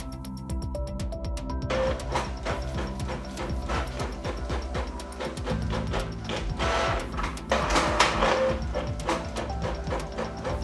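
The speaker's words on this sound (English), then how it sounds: "Here I demonstrate printing manual two-sided in mono." Canon PIXMA G-series inkjet printer running a two-sided print job in mono, with rapid mechanical clicking, whirring carriage passes and rhythmic paper-feed clatter, close and continuous without speech.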